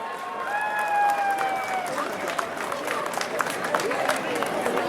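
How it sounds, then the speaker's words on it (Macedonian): A crowd applauds at the opening of an international table tennis tournament in Berovo, with scattered clapping building into a fuller patter, a few whistle tones and background voices murmuring. "Еден аплауз."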